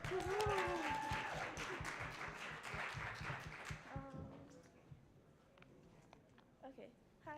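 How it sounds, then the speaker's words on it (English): A forum audience applauds a student candidate, a broad wash of clapping that fills the first few seconds and then fades, with voices speaking over and after it. "round of applause for her"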